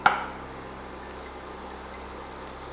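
Onions sautéing in coconut oil give off a steady, soft sizzle, with a brief sharp clatter at the very start and then an even frying hiss with no voices.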